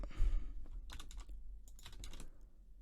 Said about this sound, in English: pressing 7 on the keyboard